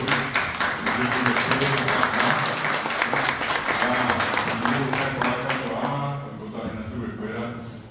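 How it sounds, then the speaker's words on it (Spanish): Strong audience applause for an honoree at a Guarani language and culture tribute ceremony, loud continuous clapping that fades toward the end while a voice starts speaking. "quiero pedir un aplauso fuerte para nuestro homenajeado de hoy"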